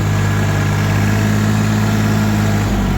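A JMT 3244 tractor engine idles close by, a steady loud rumble with a low droning hum that shifts pitch slightly near the end.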